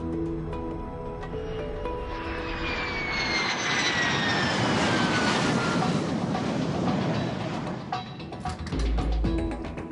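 F-16 jet engine roar during aerial refueling behind a tanker aircraft, a loud steady broadband rush with a rising whine, continuous throughout and heard alone.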